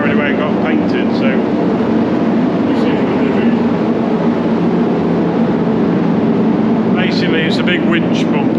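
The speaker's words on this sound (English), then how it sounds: "I've just put it on bake, so hopefully you can hear me before it gets too loud" Paint spray booth running on its bake cycle, a steady broadband roar of fans and burners that fills the space continuously, with someone talking over it in bursts near the start and end.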